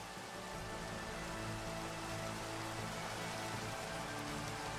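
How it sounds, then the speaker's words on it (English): Steady rain in the Minecraft game, a continuous even hiss of falling drops with a low rumbling bed, constant in level throughout with no voices. "Let's get rid of this rain."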